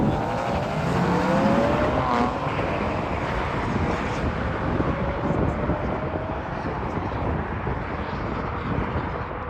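Race cars, including BMW M3s, lap a track in a steady loud roar of engines, sustained and continuous like a pack passing nearby.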